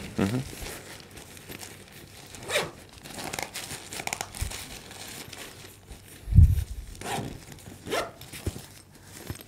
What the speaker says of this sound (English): packs right away in its little pouch